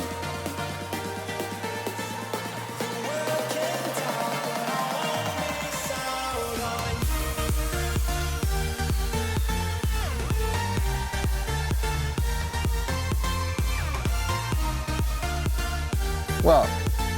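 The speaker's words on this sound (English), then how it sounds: "So let's dig in the official digital version and the first actual mix down of the song. It sounds like this." First mix-down of an electronic song, opening on a soft synth build before a steady, loud kick drum pattern drives the rest of the track, with no voices over it.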